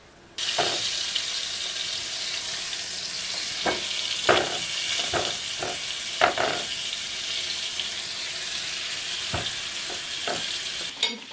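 Beef and pork zrazy rolled in flour fry in a pan with a steady, close sizzle, broken by a few sharp crackles and spatters as pieces are set down.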